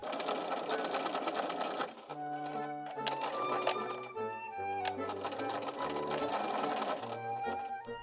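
A sewing machine stitches a flat felled seam on bloomers, running in rapid bursts that speed up and slow down, close and clear, with music playing over it.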